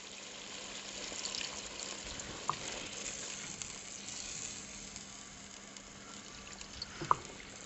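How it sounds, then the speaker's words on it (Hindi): Water goes into thick mutton korma gravy in a hot pan, and a constant sizzle and bubbling hiss follows for several seconds, with a couple of brief clinks or splashes. No one speaks. "थोड़ा सा इसके अंदर हम पानी लगा लेंगे"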